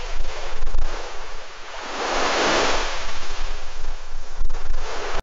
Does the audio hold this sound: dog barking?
no